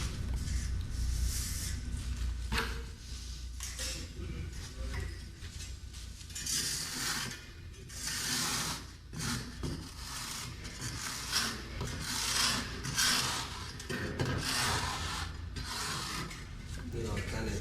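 A scraper spreads base coat mortar over cement board in a shower, with repeated rough gritty scrapes and rasping strokes in an irregular rhythm, close by and fairly quiet.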